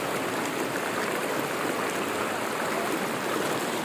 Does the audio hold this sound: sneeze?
no